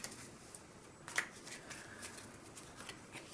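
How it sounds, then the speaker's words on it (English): Playing cards are dealt onto a table during a Let It Ride casino poker game. Faint, sparse flicks and soft slides of the cards sound close by in a quiet room. "the dealer will give you 3 cards"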